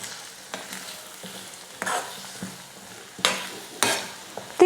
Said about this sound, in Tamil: இப்போது எல்லாத்தையும் சேர்த்து நல்லா கலந்து கொடுத்துக்கிட்டா மட்டும் போதும்.